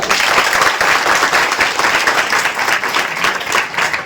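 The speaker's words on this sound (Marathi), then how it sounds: "त्या सर्व बन्सीलाल मुथा मुखबधीर विद्यालयाच्या विद्यार्थ्यांसाठी आपण टाळ्या वाजवूया" Audience applause for the students of Bansilal Mutha school for the deaf and mute, dense and steady throughout, loud and close with no clear breaks.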